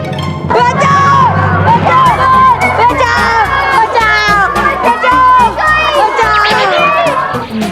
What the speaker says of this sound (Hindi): बच्चों को चिल्लाने की आवाज आ रही है।